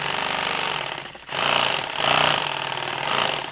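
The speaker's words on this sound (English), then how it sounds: "So we'll sew this on here." Industrial sewing machine stitching nylon tactical gear, a loud rapid mechanical chatter in bursts with a brief pause, no voices.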